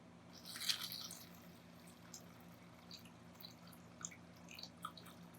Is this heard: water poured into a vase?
yes